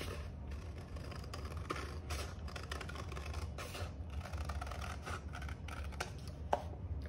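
Quiet, repeated snips and rustles come from scissors cutting paper around a drawn mandala turtle shape, set against a low steady background hum, with one sharper click near the end.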